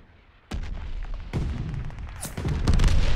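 Mortar barrage explosions in the World War II shooter Call of Duty: Vanguard: three heavy booms land about a second apart, each a sharp thump followed by rolling rumble, building louder over a constant din of battle.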